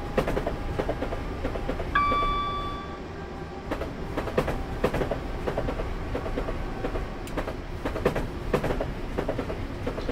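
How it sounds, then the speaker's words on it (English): In a train simulator video game on a UK route, a train rolls past with steady rumble and rhythmic clickety-clack of wheels, a brief horn-like tone early on, loud and close. "those trains that are passing us on the right"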